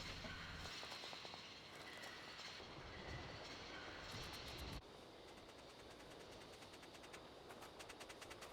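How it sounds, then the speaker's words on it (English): A train departs in the video game Syberia, heard as a quiet mechanical rolling sound with rhythmic clicking and clattering that changes character midway, steady and without any talking. "Now we can board our train and continue our trip."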